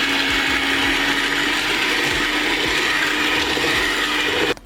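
An electric mixer whirs loud and steady as it beats an egg into vanilla cake batter, with faint rhythmic knocks of the beaters against the bowl, and it cuts off abruptly at the end.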